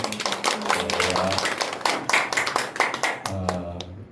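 Church congregation clapping during a Sunday morning worship service, a brisk run of hand claps with voices murmuring and speaking underneath, steady for about three seconds before tapering.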